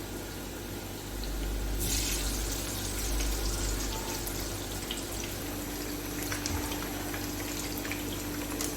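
Aloo chicken rolls dipped in cornflour fry in oil in a kadhai, a steady bubbling hiss that swells up after a quiet first second and then holds evenly.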